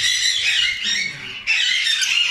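Lovebirds in a parrot breeding aviary squawk loudly and continuously in harsh, high-pitched bursts, with a brief dip in the racket before it surges back.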